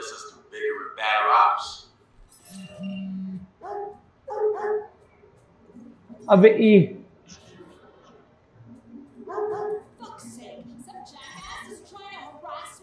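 A dog in the video game Watch Dogs 2 gives a few short barks and yips at intervals, with people talking over and between them.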